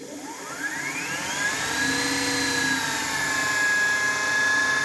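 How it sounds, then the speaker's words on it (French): Electric motor on a hang glider harness spins up under throttle, a steady whine rising in pitch over the first couple of seconds and then holding, loud and close with no talk. "Et nous allons pouvoir mettre en route le moteur. Donc je vais commencer par mettre un peu de gaz."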